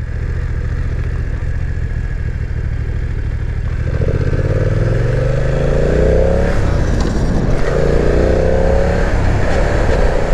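A 2020 BMW F900R motorcycle engine drones loudly while being ridden, its pitch climbing through several rising sweeps as it accelerates and shifts through gears, with wind rush underneath.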